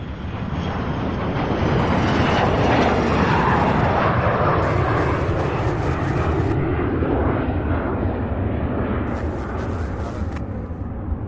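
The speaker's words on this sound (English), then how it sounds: "on 17 left, we've got this A300 UPS flight 9712 coming out of Shreveport, Louisiana" A 19-year-old UPS Airbus A300 heavy jet, flight 9712 from Shreveport, approaches runway 17 left at Louisville's UPS Worldport, a loud, steady roar of engines sustained throughout with no talk.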